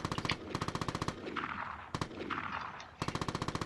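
Rapid automatic gunfire in the video game Vigor, heard as tight bursts of close, loud shots with a short pause and a reload-like clatter in between, before firing resumes.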